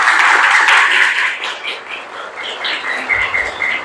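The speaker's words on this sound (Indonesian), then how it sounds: "Tepuk tangan dulu untuk kita semua." A classroom of students claps together, a loud burst of applause that fades and then breaks into a few rhythmic, patterned claps at the close.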